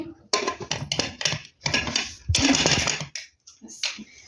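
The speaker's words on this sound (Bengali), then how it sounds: "এই দেখুন ঢাকাটা দিয়ে দিচ্ছি" Metal lid of a pressure cooker clanks and scrapes into place in a kitchen, a series of close, sharp metallic knocks and rattles with short pauses between them.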